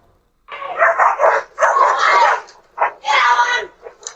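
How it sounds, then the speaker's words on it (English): A pack of several dogs on a residential street barks and yelps in loud, close bursts during an attack, with a brief pause midway and a few short yips at the end. "mauled by a pack of dogs"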